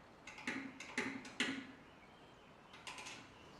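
A Stinger car lift settles onto its lock with a few quiet, close metallic clunks and creaks, three in quick succession, a pause, then one more, against a faint hum.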